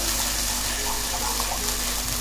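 Water splashes steadily into a bowl of curd in a home kitchen while a brinjal dish with yoghurt masala is cooked, heard as a constant close gushing with a low hum beneath.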